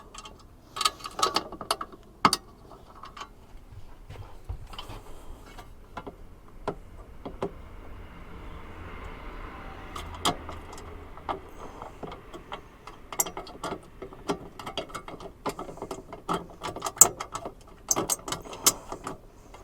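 Bolts on a Starlink roof mount for a van are tightened by hand, giving quiet, irregular metallic ticks and clicks of a ratchet scattered across the stretch, close but soft, with no talking.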